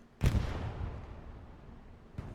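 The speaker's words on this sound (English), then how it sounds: "a beautiful shell there from artillery" An artillery shell from a Kharkov Night video game battle slams down with a sharp, loud boom that rolls off into a long fading rumble, followed by another distant thump near the end.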